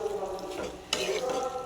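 Chicken sautés in a pan with a busy sizzle and spoon scraping throughout, a sharper clatter of stirring about halfway, close and fairly loud with no voices.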